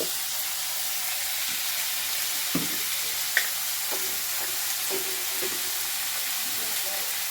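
Onion, garlic, potato and cauliflower fry in a pan with a steady, close sizzle and hiss, broken by a few brief stirring scrapes and clinks.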